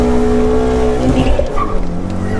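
A modified BMW 116i at full throttle gives a loud, steady engine drone close by, and a brief tire-squeal-like chirp rises partway through.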